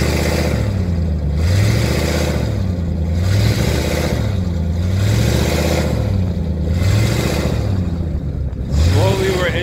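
A vehicle engine with a strong motor but no four-wheel drive revs in repeated rising and falling surges as its wheels spin, stuck in desert mud. The engine is loud and close throughout, with no talk.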